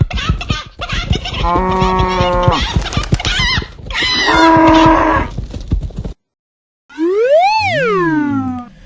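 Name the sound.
cow mooing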